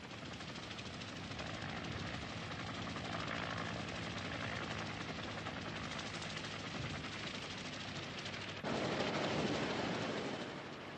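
Steady, loud helicopter rotor thrum during the Vietnam War evacuation of Saigon, with dense broadband noise throughout, growing a bit louder and rougher near the end.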